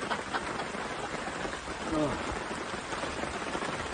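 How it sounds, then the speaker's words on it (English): Heavy rain drums steadily on a shelter roof outdoors, a dense, loud hiss and patter throughout, with a brief voice exclaiming briefly partway through. "Well, the heavens have opened."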